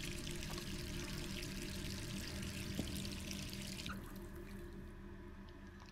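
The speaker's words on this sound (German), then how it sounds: "Oh Mann, und das Wasser läuft." A tap runs steadily in the Resident Evil 3 remake: a dense, continuous rush of water that stays close and even throughout, easing slightly partway through, with no voices.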